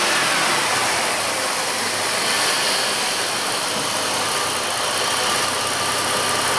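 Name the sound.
Jeep Liberty engine idling smoothly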